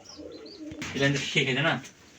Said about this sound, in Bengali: এখানে ছাড়েন দেখি কবুতরগুলা